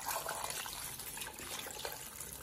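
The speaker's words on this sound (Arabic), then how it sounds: "الماء اللي يغطي لينا اللحم ما نكثروش" Water is poured over lamb meat in a pot, making a soft, continuous gushing splash that is faint and close, with no talking.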